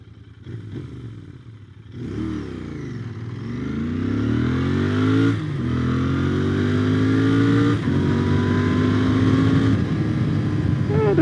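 A 2020 Royal Enfield Interceptor 650 motorcycle accelerates hard from close by, its engine note climbing through several gears with brief dips at each shift and growing steadily louder and more insistent.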